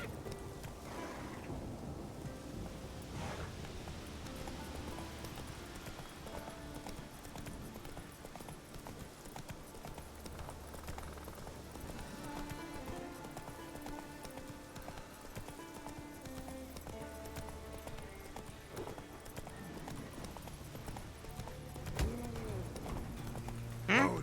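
The horse Roach gallops in The Witcher 3 with a steady rhythmic clip-clop of hooves, moderately loud under rain and a low rumble of thunder, with some faint game music alongside.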